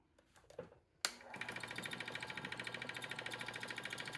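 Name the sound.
wood lathe starting and spinning a faceplate-mounted piece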